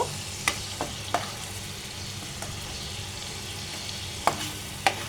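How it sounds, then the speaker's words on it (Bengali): Shrimp frying in a pan give off a constant close sizzle, broken by a few sharp clicks of a spatula stirring. "এগুলোকে এখন আমি ভেজে নেব"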